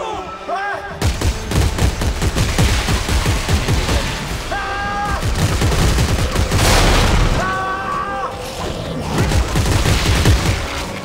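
Weapon fire in the sci-fi horror video game Dead Space 3 comes as repeated loud bursts and booms, mixed with game sound effects throughout.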